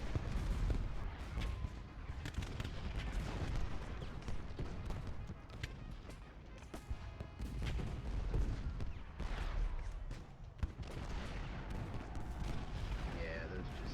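Artillery and musket fire in the Ultimate General Gettysburg battle game, a continuous faint battle din of rolling cannon booms and scattered crackling volleys, steady across the whole stretch with no clear pause.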